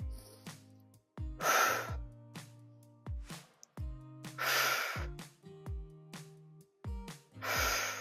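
Sharp, breathy inhales and exhales come in short, regular bursts during a Pilates workout, close up over a background of steady musical tones.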